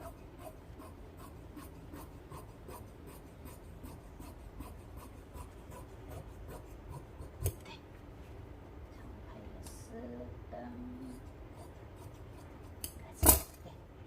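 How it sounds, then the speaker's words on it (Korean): Scissors cut stretchy dress fabric with a quiet, regular series of snips and rustles, close by. A few louder knocks and handling noises break in near the end. "여기는 조금 더 길게 그냥 잘라 보겠습니다"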